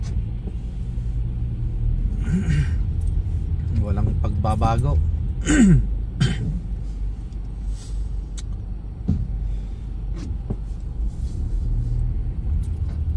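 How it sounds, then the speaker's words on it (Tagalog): Heavy road traffic heard from inside a car behind a bus, a constant low engine rumble with passing vehicles, while people talk briefly over it. "masyadong traffic"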